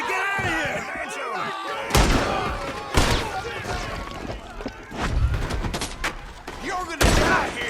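Red Dead Redemption 2 gunfire aboard a cruise ship: sharp, loud gunshots crack at irregular intervals amid shouting voices and a tense, busy scene.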